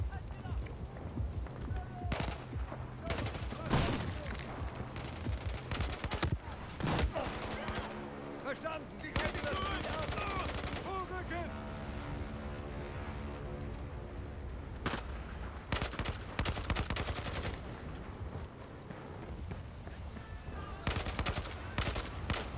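Gunfire from the video game Battlefield 4 in a water battle, with dense salvos and rapid automatic bursts rattling almost nonstop and loud, while a player talks over the shooting.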